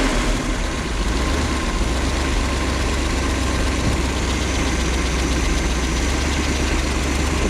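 Freshly rebuilt Pontiac 400 V8 running after a cam and intake fix, a loud continuous idle with a steady low rumble and rough, slightly knocking texture, close up and unbroken.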